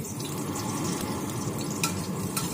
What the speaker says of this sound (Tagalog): painitin lang natin ng konti at lagyan natin yung garlic